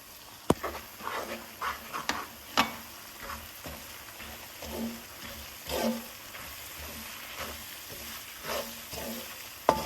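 Gram flour being stirred and roasted with fried coconut in a pan, soft scraping and gentle sizzling with intermittent spoon knocks against the pan.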